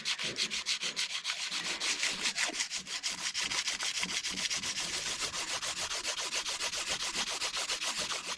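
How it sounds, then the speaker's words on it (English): JB Weld repair on an FJ Cruiser being sanded by hand with emery cloth and 400 grit sandpaper, a fast steady back-and-forth rasping stroke repeated evenly throughout, close and fairly quiet with no talk. "I hit it with the emery cloth and then some 400 grit sandpaper"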